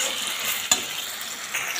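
Taro leaves stirred in a hot pan, giving a steady close sizzle of frying with a short scrape of stirring partway through and no talk.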